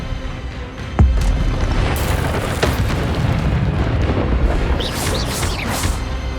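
A Disarming Charm spell fires in the video game Hogwarts Legacy with a sudden booming impact, followed by a steady rumbling roar and a few bright whooshing flourishes near the end. The sound is loud and dense, with no talking.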